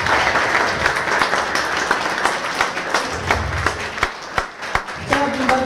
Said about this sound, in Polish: Wielkie brawa dla pani Agnieszki.